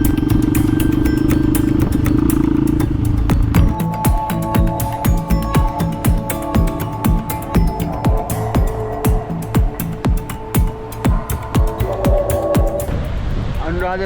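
Honda XR 250R motorcycle engine idling and revving nearby, a loud rhythmic throbbing with repeated sharp pulses and clatter.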